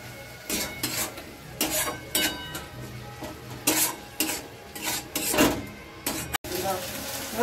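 Grated tomato masala is stirred in a pan, with repeated scraping and clanking of a utensil against metal in irregular bursts over a soft sizzle, all close and moderately loud, with a brief dropout near the end.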